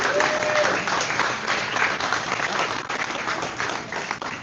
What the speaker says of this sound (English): So let's give a round of applause for Anna while I get her talk started